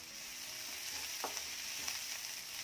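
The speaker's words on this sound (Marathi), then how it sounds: "रंग बदलेपर्यंत कांदा छान भाजून घेऊया।" Onion fries in a pan as a gentle, continuous sizzle with occasional soft stirring scrapes, heard alone and fairly quiet at close range.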